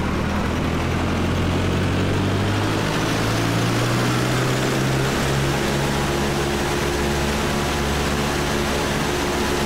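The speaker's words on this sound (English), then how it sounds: "Now let's run our Accu-Sim C172R up to full power." Cessna C172R engine run up to full power in a flight simulator, a loud continuous propeller drone whose pitch rises steadily in the first few seconds and then holds steady.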